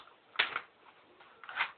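A BuzzBee Double Shot toy shotgun is cocked, giving two short plastic clicks and rattles about a second apart, faint and close with no talk.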